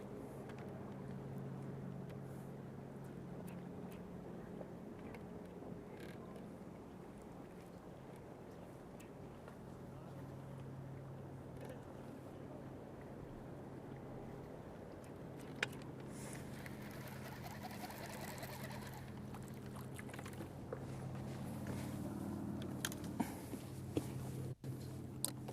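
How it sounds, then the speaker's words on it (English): Distant bass-fishing tournament motorboat engines droning steadily across Lake Norman, with occasional faint birdcalls and a few close knocks near the end. "Hear more boat traffic out there."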